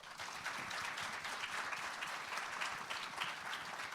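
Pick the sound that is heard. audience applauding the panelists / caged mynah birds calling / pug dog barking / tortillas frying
audience applauding the panelists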